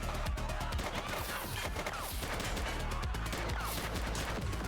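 Rapid gunfire rattles through a police shooter game set on city streets, dense bursts of shots layered with game noise at a steady, moderately loud level.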